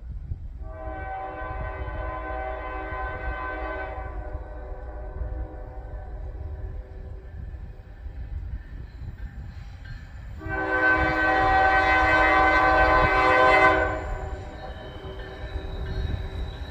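Freight trains hauled by KCS locomotives pass McKinley Crossing on the Fort Wayne Line near Big Beaver and New Galilee, with two long blasts of the horn, a shorter earlier call and a louder, nearer one later, over a steady rumble of rolling cars.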